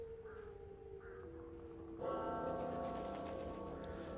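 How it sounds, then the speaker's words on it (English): A bell rings out loud and resonant after a quieter tonal passage, its ringing overtones sustaining and slowly fading. "The bell rang again."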